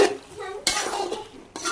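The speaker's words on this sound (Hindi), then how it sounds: "केचप को भी अच्छे से करेंगे मिक्स।" Ketchup is mixed into macaroni in a pan with a metal spoon, giving brief clattering scrapes and knocks against the pan, close and fairly loud.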